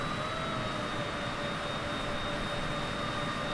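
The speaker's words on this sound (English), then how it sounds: "And now we're going to taxi over to the runway." Airliner jet engines run steadily as the plane taxis to the runway, a loud, constant roar with a thin high whine and no speech over it.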